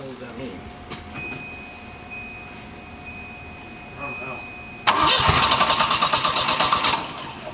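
A turbocharged Volvo car engine cranks loudly and abruptly partway through, a dense, rhythmic churning that runs for a couple of seconds and then cuts back, with people talking quietly and a faint steady whine beforehand.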